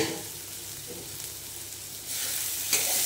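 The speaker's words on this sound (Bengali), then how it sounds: "এবার মাছটা, ভাজা মাছটা এর সঙ্গে মিশিয়ে একটু নাড়াচাড়া করে দিয়ে দেবে জল" Fried fish is stirred into a spicy mixture in a hot pan, a short burst of close sizzling that swells louder toward the end as the pieces are turned.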